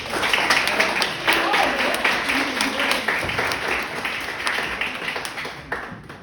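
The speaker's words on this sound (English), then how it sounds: "Let's give Penny a round of applause for sharing this" An audience applauds at an evening gathering, with broad clapping and a few sharper individual claps standing out. It stays fairly steady, then thins slightly toward the end.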